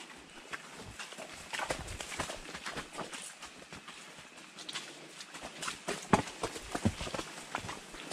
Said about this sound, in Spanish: varias mulas y varios caballos están adelante